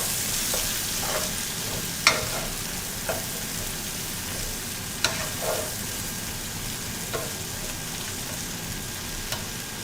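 Plantains fry in oil in a skillet with a steady, close sizzle, broken by a few sharp pops and crackles spaced a second or two apart.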